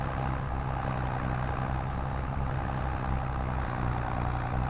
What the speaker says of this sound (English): I must say this tractor is actually very nice